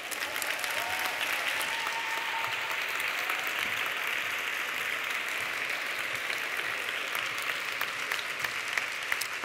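Strong, steady applause from a large audience at a university graduation ceremony, dense clapping filling the hall evenly from start to finish with no break.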